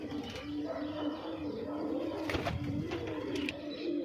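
Punjabi Malwai pigeons coo steadily and close by, a continuous low rolling coo with a few soft chirps over it.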